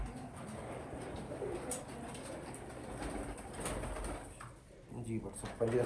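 Pigeons in a loft coo softly and repeatedly, faint and fairly close, while people talk over them and occasional knocks and sliding noises sound in the background.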